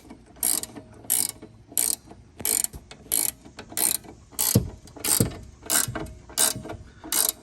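A ratchet tool cranks in a regular series of about a dozen sharp clicking bursts, close and loud, while an Audi B8 front control arm pinch bolt is being worked loose, with a couple of duller knocks midway.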